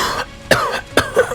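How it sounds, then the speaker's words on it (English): A woman coughs in three short, harsh bursts, spaced closely and heard near and alone. "Gwen coughed."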